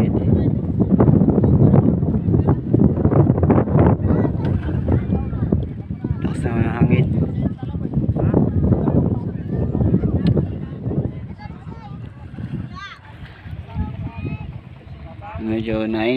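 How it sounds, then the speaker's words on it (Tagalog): Strong wind buffets the microphone at sea aboard a small vendor's boat, a heavy low roar that rises and falls throughout while a person talks over it. "ang lakas ng hangin po dito"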